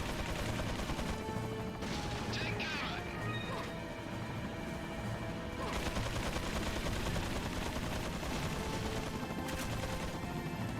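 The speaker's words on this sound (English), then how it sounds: "I want to waste the 4 magnum bullets I have left." Magnum gunshots from the video game Resident Evil 4 boom out as a few separate, heavy blasts, each followed by a crashing tail over game background noise.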